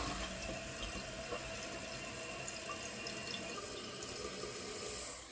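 A toilet with a newly installed Fluidmaster 400A fill valve gives a steady, close rush of flushing and refilling water, broadband and even throughout with no breaks.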